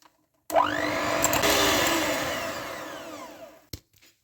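An electric mixer whirs steadily through cake batter for about three seconds, starting abruptly, then slowly easing off before it cuts out. The batter is a mix of oil, milk, vanilla and coconut, with no talking over the motor.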